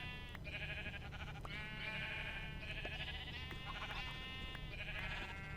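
Sheep in Minecraft's FTB Infinity Evolved skyblock pack bleat repeatedly in a run of wavering, nasal calls that overlap one another over a steady low background hum, with no talking.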